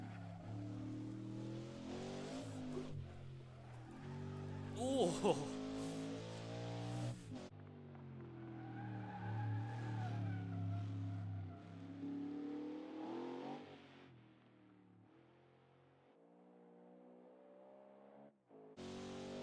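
A Ford GT40 race car driven fast on a track, its engine revving hard through the gears with loud, continuous roaring, a brief drop at a gear change, and a short shout from inside the car.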